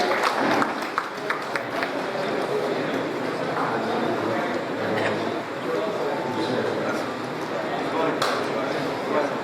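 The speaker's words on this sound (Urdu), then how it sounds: "अपनी खुशी का इजहार फरमाएं, ताली बजाएं।" An audience claps throughout at a teachers' award ceremony, a dense scatter of hand claps under a steady hubbub with a few sharper bursts standing out.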